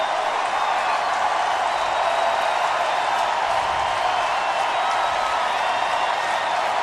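Stadium crowd noise at a college football playoff game, North Dakota State hosting NIU, a dense, constant roar of cheering fans heard from a distance, unbroken and even in level, with no clear individual voices.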